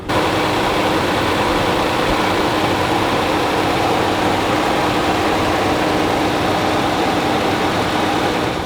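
A 1972 Mercedes 300SEL with its fuel-injected engine running, a loud, steady, close rumble holding constant throughout with no voices.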